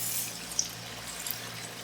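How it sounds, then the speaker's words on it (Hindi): Half a cup of water is poured into paneer masala gravy in a pan, a soft, faint splash and trickle with a few small drips, heard alone without talk. "हाफ कप पानी शामिल कर दें इसके अंदर।"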